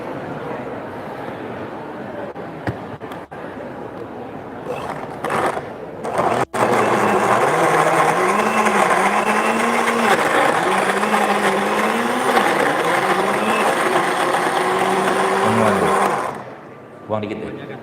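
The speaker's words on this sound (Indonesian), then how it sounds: "Blender deh." An electric blender grinds coffee with honey, its motor whirring loud and steady for about ten seconds while the pitch wavers slightly, then cutting off; voices are heard around it.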